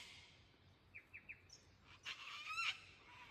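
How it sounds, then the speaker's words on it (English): Cockatoo calling in the Australian bush: a few short, faint chirps and then a louder harsh squawking burst near the end, over quiet background with no talking. "Got a cockatoo who's just come to visit."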